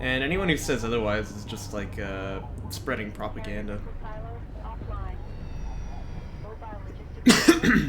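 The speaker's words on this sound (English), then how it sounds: "That's the sound of me coughing because what I'm saying is true." A man gives a short burst of coughing as a joke, loud and close, right after he finishes talking over commentary on a Homeworld: Deserts match.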